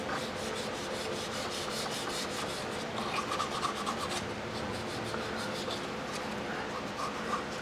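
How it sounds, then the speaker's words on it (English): Hand sanding on a VW bus rear hatch cargo door panel gives a steady close-up rasp of repeated back-and-forth rubbing strokes, with no voices over it. "Let's get this sanded down."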